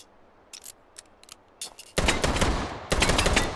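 Loud bursts of rapid gunfire from Italian guns, first a few scattered sharp cracks, then sustained automatic fire in two long volleys, close and dominating.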